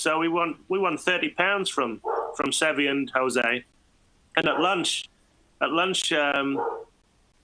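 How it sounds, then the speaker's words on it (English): A dog barks somewhere in the home, off in the background, while someone talks about a golf match, the barks mixed into and between his speech. "Sorry about my dog in the background."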